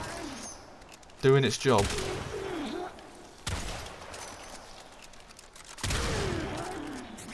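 The Tigris Prime shotgun fires in the video game Warframe as three sharp, separated blasts spaced a couple of seconds apart. Someone talks between and over the shots.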